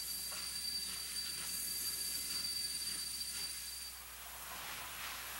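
Two Mikado steam locomotives, coupled double-headed, pull a passenger train, heard from a distance as a steady hiss and rumble with a faint, high wheel squeal.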